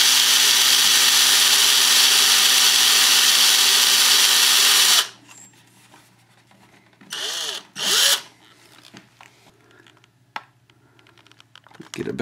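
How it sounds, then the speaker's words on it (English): A power drill whines loudly and steadily for about five seconds while back-drilling a hole through a rotor mast on its spinner, then stops, followed by quieter handling clatter and a few short scraping bursts nearby. "I'm going to go ahead and back drill that hole."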